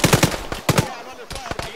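Rapid bursts of automatic gunfire in the military shooter Arma 3, clustered in short close volleys with brief pauses, loud and sharp with rattling echoes.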